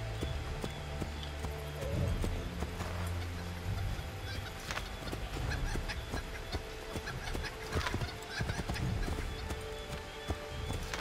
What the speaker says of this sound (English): Maybe it's just an easy horse ride.